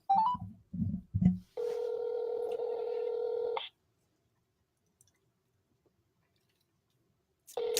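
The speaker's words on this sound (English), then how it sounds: "Let's see if he picks up the phone." A phone call is placed: a few short dialing clicks, then a steady ringback tone lasting about two seconds, followed by silence until a voice briefly starts at the end.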